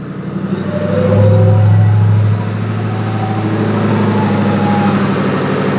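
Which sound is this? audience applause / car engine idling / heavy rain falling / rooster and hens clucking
car engine idling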